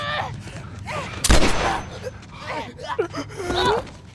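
A single loud, sharp gunshot in The Last Of Us game bursts out amid tense, anguished voices talking and gasping before and after it.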